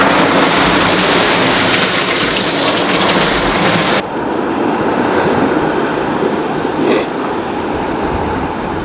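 Ocean waves and wind on a sunny day at sea in the Southern Ocean, heard from aboard the American Open 60 racing yacht Ocean Planet during the Vendee Globe. A steady, loud rush of water and wind noise runs throughout, with no voices.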